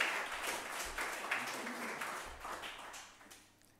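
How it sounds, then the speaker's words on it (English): A meetup crowd at a computer vision event in Vienna applauds to welcome a speaker, with scattered claps and a few sharper taps that fade out toward the end. "give a warm welcome applause to Markus"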